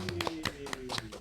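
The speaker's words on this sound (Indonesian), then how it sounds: "Tepuk tangan dulu, woy" Handclaps at a talk show taping, a quick scattering of sharp, separate claps close by over a low steady hum.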